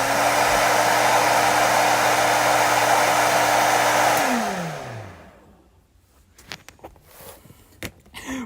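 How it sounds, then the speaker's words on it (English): Hair dryer blowing loudly and steadily with a constant whine, then switched off at about four seconds so the motor winds down, followed by quiet with scattered faint knocks and handling noises. "Blower, turn on!"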